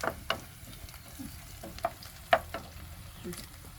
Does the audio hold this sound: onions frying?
yes